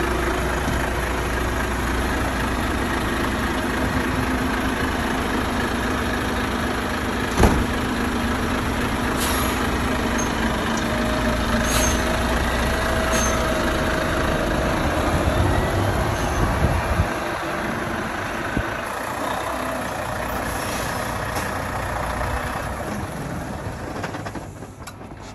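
A truck tractor unit idles with a deep, steady diesel rumble, then the engine note shifts and thins as it pulls away from its trailer, fading near the end.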